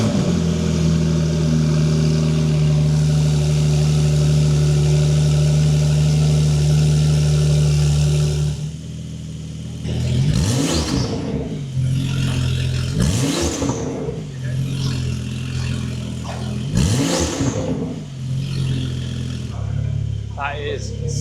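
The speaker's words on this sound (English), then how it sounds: "The titanium exhaust is on, the Turbo Smart diverter valves are in, and the intake kit is also fitted." Porsche 992 fitted with a titanium exhaust, Turbo Smart diverter valves and an intake kit. A loud steady idle drones for about eight seconds, then three sharp revs climb and fall back, with people talking over them.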